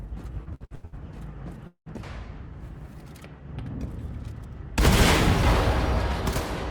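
A fuel tank explodes inside a hangar in Wolfenstein II, a sudden loud blast that cuts in after scattered thumps and rumbling and then roars on as a sustained, heavy burst of noise.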